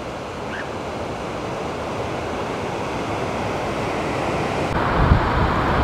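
Whitewater rapids on a river in Buena Vista, Colorado rush continuously as a dense, steady roar, close and loud, with no voices over it.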